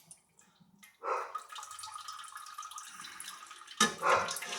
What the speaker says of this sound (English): Take a little bit of hot water and rinse out your pot.